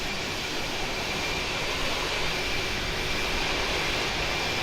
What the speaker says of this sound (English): Just listen to the sounds of the airplane.